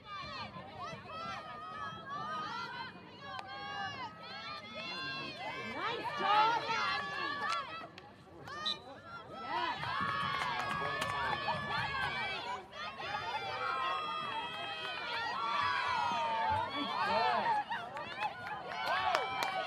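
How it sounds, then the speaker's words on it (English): A Husson crowd cheering at a field hockey game against #8 Bowdoin College: a roar of fans and shouting that swells and dips under an announcer's running commentary. "You can hear this Husson crowd roaring."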